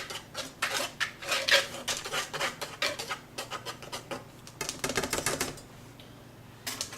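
Rapid, busy clatter of a whisk beating ingredients together in a bowl, fast repeated ticks in bursts with a brief pause near the end, no talking.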